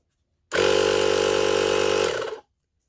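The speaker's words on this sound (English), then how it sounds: "I've used this little air compressor a couple of times, and it's like any of these other noisy things" A small portable air compressor, used for airing up lawnmower tires, buzzes loudly for about two seconds with a steady harsh rattling drone, then cuts off abruptly into silence.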